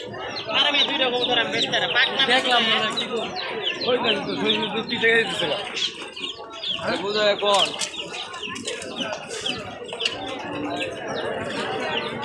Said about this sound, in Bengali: অসংখ্য কবুতর